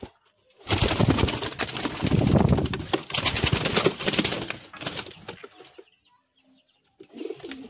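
Pet pigeons in a loft coo and flap their wings in a loud, close flurry lasting several seconds, then fall quiet before a short flutter returns.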